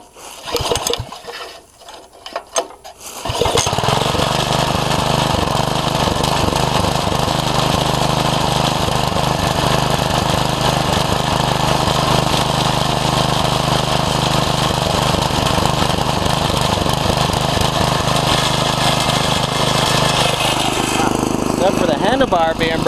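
Small rototiller gasoline engine running steadily after a carburetor cleaning, a loud, close, continuous buzzing drone. It comes on after a few seconds of brief handling noises and holds evenly throughout.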